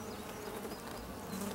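Honey bees at an open hive during an inspection, their steady dense buzz filling the air close by as a continuous drone with no talking.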